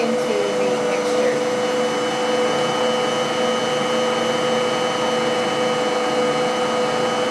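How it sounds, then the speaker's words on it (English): A Bosch Universal Plus stand mixer on speed 1 churns whole wheat pita dough, its motor humming loudly and steadily with a whirring drone that never changes. "We'll turn the machine on speed 1 just to mix in the flour, the first bit of flour, into the mixture."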